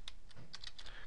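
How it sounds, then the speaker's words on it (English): Close, brisk typing on a computer keyboard in an office-software lesson, several quick clicky keystrokes in an uneven rhythm over about a second. "How about instead of school, I'm going to type"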